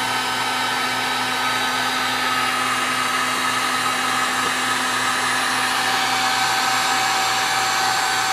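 A heat gun blows steadily and loudly at close range while heating the base of an LED bulb, a constant whooshing roar with an electric motor whine underneath.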